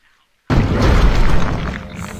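A cannon blast in the video game Grimm bursts in loudly after a half-second of silence, then a dense, rumbling roar holds at high level and eases slightly toward the end.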